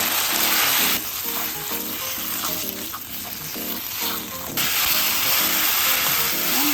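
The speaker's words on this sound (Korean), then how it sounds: "아까 물기 뺀 당면을 넣어서 볶아 보겠습니다" Drained boiled glass noodles stir-frying in oil and sesame oil, a loud continuous sizzle and hiss with a soft bubbling patter running under it.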